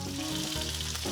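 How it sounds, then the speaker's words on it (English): Steady, close sizzling of salmon frying in a hot oiled pan, a continuous crackling hiss with no talking. "you want the kind of like a sizzling kind of going off there"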